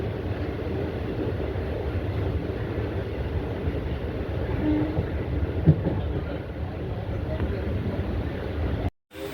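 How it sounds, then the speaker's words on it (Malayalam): A passenger train on the Kayamkulam to Ernakulam line via Alappuzha rolls into Thakazhi railway station, heard from inside as a continuous low rumble with faint clattering, steady and fairly loud until a sudden brief cut near the end. "തകഴി റെയിൽവേ സ്റ്റേഷനിലേക്ക് ട്രെയിൻ എത്തിയിരിക്കുകയാണ്."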